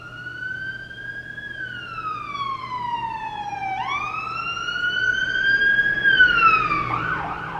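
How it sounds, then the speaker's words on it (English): A wailing siren sweeps up and down in long pitch glides, steady and fairly loud, as an ambulance passes by over faint road noise. "here comes an ambulance"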